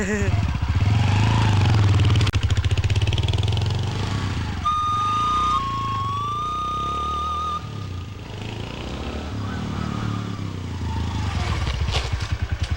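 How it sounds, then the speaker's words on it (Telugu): A motorcycle engine drones steadily and close by throughout while it is ridden, mixed with clatter and a tonal whine partway through, as people talk over it. "నువ్వు బైక్ బాగా నడుపుతున్నావే"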